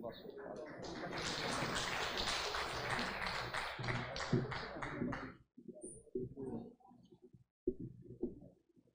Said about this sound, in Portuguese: Um aplauso aí.